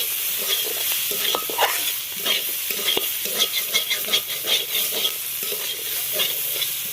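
Taro fries in a wok as a spatula stirs it, giving repeated scraping and rustling strokes over a continuous crackling sizzle, close and fairly loud with no talking.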